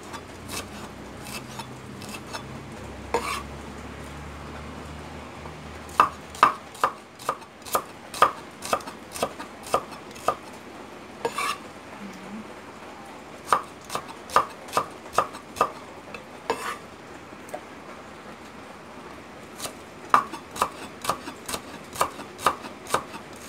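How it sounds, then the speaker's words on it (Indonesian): A knife slices shallots on a cutting board for frying, producing crisp, close taps that come in irregular bursts of quick strokes separated by short pauses, with no voices. "Dipotong terus sampai selesai."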